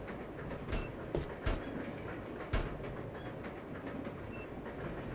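A train rolls along steadily in a game, with rhythmic clickety-clack of wheels and a few sharp clanks, moderately quiet and continuous throughout.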